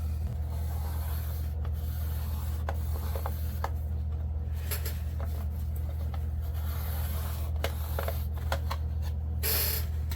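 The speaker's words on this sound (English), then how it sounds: "So give it a quick rub down with it, and then we'll see what's going on." A cloth rubs steadily over the window of a Walthers Cornerstone Stateline Farm Supply model building, giving a continuous close-up scrubbing rasp with a few sharper strokes and no talking.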